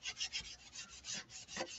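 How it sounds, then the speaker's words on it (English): An applicator's back is rubbed over a paste transfer in quick, soft strokes, a faint, close, papery scuffing that repeats in an uneven rhythm. "I'm just buffing it in with the other side of my applicator."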